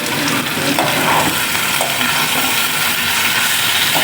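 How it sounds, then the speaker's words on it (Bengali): Chicken cooked with ground spice paste sizzles loudly in a pan while being stirred, a continuous close frying hiss broken by scraping strokes of the spoon. "তো বন্ধুরা দেখছো আমার এই যে ভাজা ভাজা করছি"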